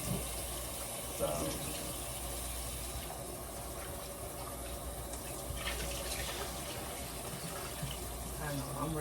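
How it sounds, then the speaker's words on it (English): Tap water runs continuously into a pot while rice is rinsed in a home kitchen, a steady close rushing stream with faint handling sounds and no speech. "I'm rinsing it again."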